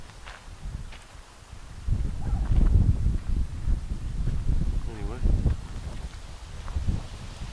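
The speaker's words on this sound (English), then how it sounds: "this wind is actually quite ferocious at times. It's gusting" Wind buffets the microphone in rumbling gusts that rise and fall, with a voice speaking briefly near the start.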